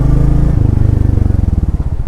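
A motorcycle runs close by, its low engine thumping in a steady rapid beat that grows more pulsing as it pulls away in gear, with no talk over it.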